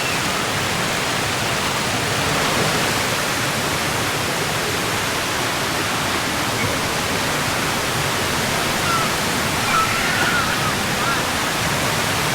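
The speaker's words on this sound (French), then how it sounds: "Donc ils descendent dans la cascade là." A steady, dense roar of the Wang Kan Lueng waterfall in Thailand, constant and full-bodied throughout, with no pauses.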